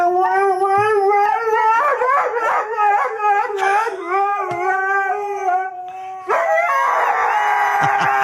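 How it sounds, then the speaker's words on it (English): Three husky dogs howl together at close range early in the morning, long wavering cries rising and falling and overlapping, with a brief dip before the chorus swells again. "They howl."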